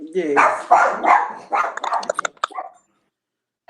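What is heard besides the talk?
dog barking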